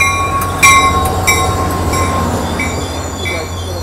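Train wheels squeal in high, piercing tones against the steady low rumble of an F40PH diesel locomotive on a Caltrain train rolling close by at Mountain View station, with sharp squeaks repeating.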